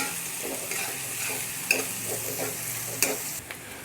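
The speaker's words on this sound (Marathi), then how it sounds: "त्याच्यामध्ये एक सोनेरी रंग येईपर्यंत फ्राय करून घ्यायचा आहे।" Chopped onion sizzles in a pan as it fries toward golden, with an even hiss and occasional spoon scrapes and taps against the pan.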